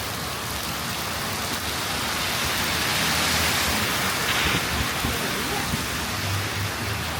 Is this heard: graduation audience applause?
no